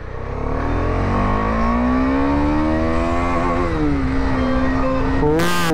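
A motorcycle engine revs loudly and steadily, its pitch climbing, easing briefly, then rising again right up close.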